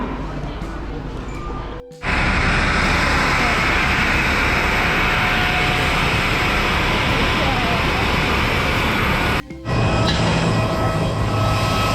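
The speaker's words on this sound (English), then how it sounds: "Take a plane Air Asia." Loud, steady roar of an Air Asia jet cabin on a flight from Penang to Langkawi, broadband engine noise droning throughout with two brief dips, faint speech buried beneath.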